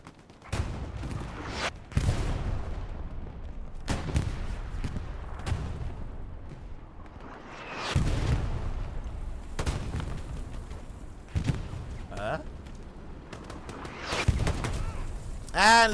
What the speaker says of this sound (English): using their munitions for... for artillery at the moment